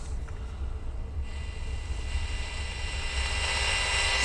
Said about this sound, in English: you can hear how staticky everything is